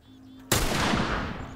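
A single loud gunshot rings out in The Last of Us Remastered, a sharp sudden blast after a quiet hum, trailing into a long echoing decay.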